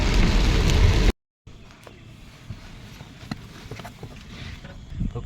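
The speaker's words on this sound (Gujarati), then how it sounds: "જબર વરસાદ આવે. બહાર દેખ છું વરસાદ આવ્યો." Heavy rain falling outside during a monsoon downpour with flooded streets, a steady wash of rain with scattered drips and splashes, loud at first then quieter after a brief gap.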